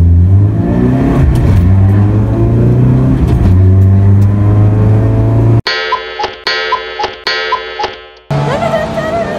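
Honda CB7 motorcycle with loud Laguna exhaust pipes on a race track, a sustained roaring engine drone that cuts out then returns in choppy throttle bursts, close and loud.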